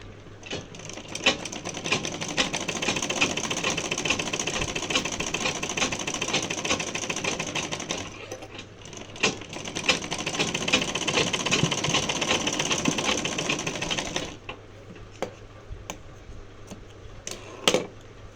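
A sewing machine stitches a blouse with goat piping at the sleeve, a rapid mechanical chatter running in two long bursts with a short pause between, then dropping to quieter handling sounds.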